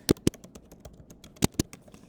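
Text is typed on a device, heard as a few crisp, close taps in two quick pairs with fainter taps between them, no talk.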